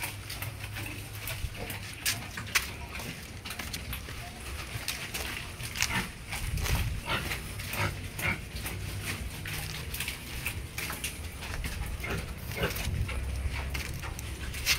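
A sow and piglets grunting and snuffling close by, irregular low grunts over a busy farmyard background with occasional squeals.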